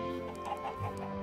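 Chickens clucking in the video game Minecraft, a short run of soft, repeated cluck sounds close by over a steady background tone.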